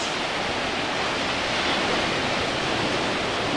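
Broadband ocean surf washes steadily onto a beach during a morning run, a continuous close, fairly loud roar with no distinct breaks or voices.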